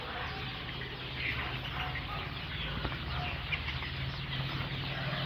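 Chickens clucking amid a dense, steady hubbub of many birds at a large poultry farm with ducks and hens, a continuous noisy din with no clear pauses.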